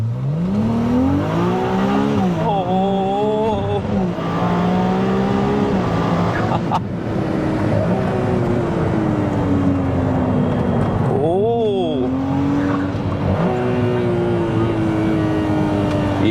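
Ferrari 296 GTS hybrid sports car doing a launch, its engine howling up through rising and falling gear sweeps with a shift around the middle, loud and close inside the cabin, with someone talking over it.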